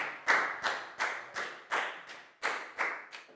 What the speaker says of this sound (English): High five and a big round of applause for Chu, please, guys